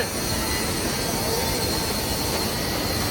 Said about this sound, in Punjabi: ਇੰਜਣ ਆਉਂਦਾ ਦੇਖੋ ਇੰਜਣ ਆਉਂਦਾ ਜਾਂਦਾ ਇੰਜਣ